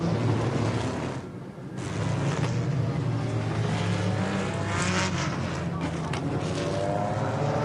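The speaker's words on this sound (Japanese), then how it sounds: "エクゾーストの音が高まります。" Race car exhausts on the grid at the 1994 Suzuka 1000km endurance race, a loud, dense mass of revving engines roaring continuously with a brief dip near the start, close and steady throughout.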